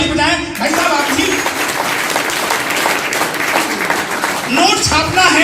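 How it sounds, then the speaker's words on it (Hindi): A seminar audience claps together in a sustained, loud round of applause, with a voice speaking briefly at the start and again near the end. "एक बार ताली बजाएं भाई साहब।"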